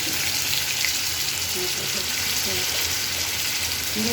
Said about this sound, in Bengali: আমি একটু রসুন দিয়ে দিচ্ছি